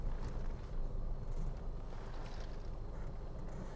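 A car pulls away in first gear at a junction during a driving test route, its low engine drone and road rumble steady and close, with some wind buffeting.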